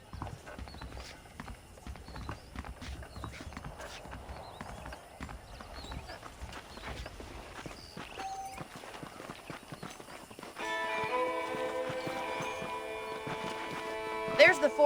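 Horse hooves clip-clop steadily in Red Dead Redemption as a rider sets off, soft and continuous at moderate distance, with game ambience, mechanical clatter and talk in the background.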